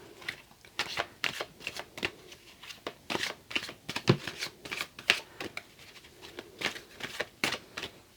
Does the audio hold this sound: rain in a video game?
no